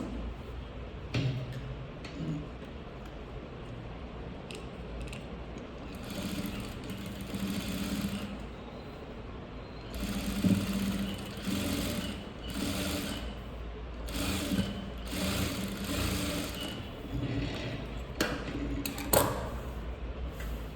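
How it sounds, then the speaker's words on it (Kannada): A sewing machine puts a loose stitch into a blouse being hemmed. It runs in several short, rhythmic bursts of rapid mechanical ticking, close by, separated by pauses and handling noises. "ಇದಕ್ಕೆ ನಾನೊಂದು ಲೂಸ್ ಸ್ಟಿಚ್ಚನ್ನು ಹಾಕ್ಕೊಳ್ತಾ ಇದ್ದೀನಿ"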